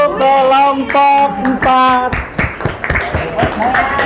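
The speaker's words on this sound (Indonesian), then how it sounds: "tepuk tangan untuk kelompok" Classroom applause for a student group, scattered clapping that starts after a teacher's voice and continues in a fairly loud, uneven patter for a couple of seconds.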